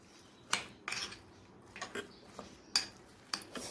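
A spoon clinks and scrapes against a bowl while lemon pickle is stirred together with jaggery, giving a handful of sharp, close metallic taps spread irregularly over a few seconds.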